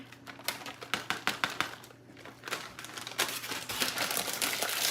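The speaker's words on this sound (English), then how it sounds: "Let's get these bags open." Plastic bags of shredded cheddar cheese being torn and pulled open in a home kitchen, a run of crinkly, rustling bursts and rips close to the mic, growing busier and louder toward the end.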